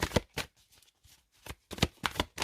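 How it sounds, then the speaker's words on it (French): Tarot cards laid out during a reading: a few crisp slaps and slides of cards placed on a table, close and fairly soft, in separate bursts with quiet gaps. "Alors, on va mettre une carte sur l'ermite."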